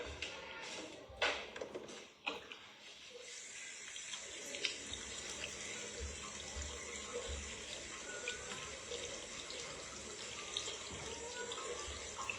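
Tap water runs steadily into a sink as hands are washed outdoors at a house under construction, with a few brief splashes and knocks at the start, then an even stream. Faint voices are heard in the background.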